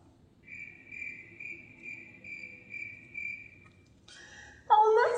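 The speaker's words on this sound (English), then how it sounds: "Oh, that sounded like the sounds of crickets." Crickets chirping in a steady pulsing series of bright trills, fairly near and alone over a quiet background, ending with a sudden louder burst of another sound.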